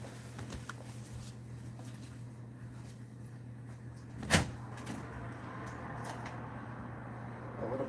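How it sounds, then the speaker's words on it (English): A door is opened once to let a dog out, a single sharp bump standing out clearly over a steady low background hum, with the room quiet before and after. "I'm gonna go open the door so the dog can go and sniff around outside."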